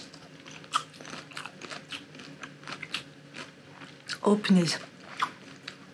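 Biting into a soft samosa filled with melted grated emmental, a close, brief crunchy bite with chewing amid ongoing speech.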